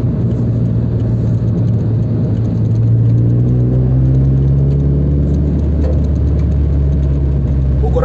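Toyota FT86 sports car engine running steadily while driving, a continuous mid-pitched hum with a low rumble that rises slightly in pitch midway through, heard from inside the cabin with no talking.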